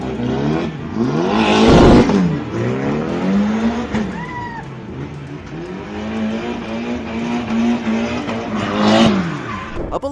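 A street car drifts away from police, with tyres squealing and the engine revving in rising and falling sweeps, loud and close, plus a sharp skid burst early on and another near the end.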